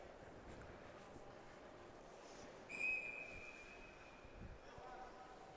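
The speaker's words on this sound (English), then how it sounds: "And they'll whistle the play dead." A referee's whistle gives one short, shrill blast to stop play in a U15 ice hockey game against BK Selects, heard at mid-distance over steady rink ambience and low crowd murmur.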